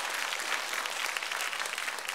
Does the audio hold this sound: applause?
yes